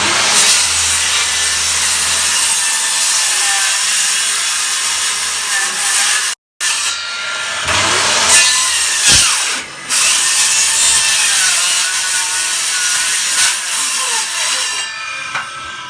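A power saw cuts through a wooden window sill during a DIY removal, grinding loudly and continuously, briefly stopping midway before resuming with a rasping, rubbing tone.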